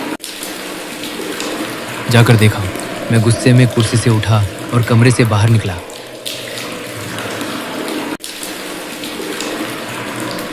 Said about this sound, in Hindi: उफ, कितनी देर से बाल्टी में पानी चल रहा है।